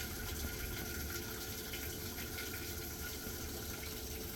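Water pours steadily into a washing machine tub as it is filled for a load of clothes, a constant rushing flow with a low churning undertone, close and unbroken throughout with no talking.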